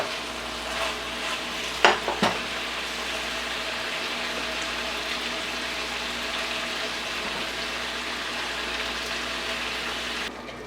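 Butter hitting beef in a hot pan for a Georgian beef stew with tomatoes and herbs, giving a steady close sizzle and frying hiss throughout with a couple of brief clinks early on.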